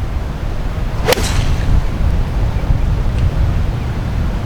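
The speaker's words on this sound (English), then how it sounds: "I'm hitting 6-iron." A golf ball is struck with a 6-iron on a PGA Tour course, a single sharp crisp click against steady wind noise outdoors.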